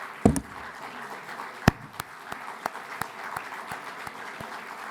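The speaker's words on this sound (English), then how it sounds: "Yeah, they deserve your applause." An audience at the Jerusalem Post Annual Conference claps, a loose spattering of individual claps with a few sharp louder ones rising over a soft, steady patter.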